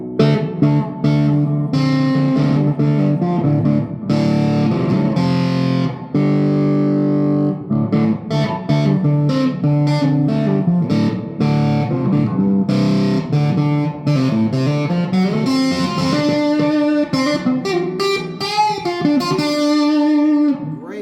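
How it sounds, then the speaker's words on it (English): A heavily distorted baritone electric guitar with a long scale and heavy strings, played through the bridge pickup, plays a chunky low-pitched riff, with sustained notes and quick chord stabs ringing out loud and alone. "Great sounding bridge pickup, and add a little distortion."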